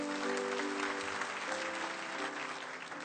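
Congregation applause during a Christian sermon in Indonesia: sustained dense clapping from many people, fairly distant and even, with a faint background tone running beneath.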